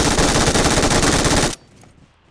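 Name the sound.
gunfire in the video game BGMI, Sanhok map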